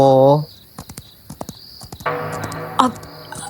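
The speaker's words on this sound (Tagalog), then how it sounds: "May kabayo tumatakbo." Hooves clip-clop in a short irregular series close by, between bursts of voices talking, suggesting a horse on the move in a rural Filipino setting.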